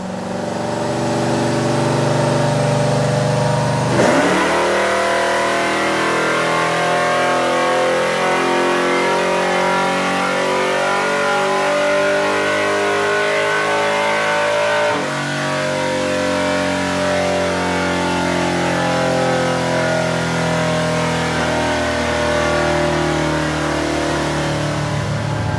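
A naturally aspirated engine revs on a dyno during a power pull, roaring loud and close with rising pitch, a sharp shift near four seconds and another change around fifteen seconds, holding high revs throughout.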